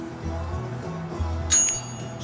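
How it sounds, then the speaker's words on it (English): A mini toaster oven's timer bell gives a single bright ding near the end, ringing briefly over a steady low hum. "Now we will wait for the bell."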